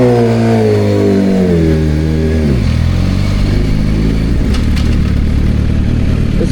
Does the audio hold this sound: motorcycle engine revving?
yes